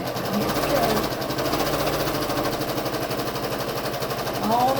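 A sewing machine stitching log cabin quilt blocks runs continuously and close, a steady rapid mechanical chatter with a slight rise in intensity at the end.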